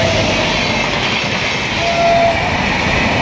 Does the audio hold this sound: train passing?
yes